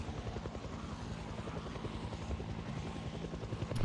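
Helicopter in Project Zomboid flying overhead during a road trip through Knox County, a continuous rotor chop thumping steadily and fairly loud, alone with no voices.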